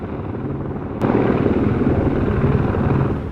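A camera-carrying survey drone flying at a working port, giving a steady whirring rotor drone. It swells louder after a sharp click and holds close and continuous with no talk.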